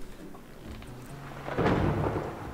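Thunder rolls through a storm in the farming game Professional Farming, a low rumble that builds and swells midway through before easing off, set against a steady background hiss with no voices over it.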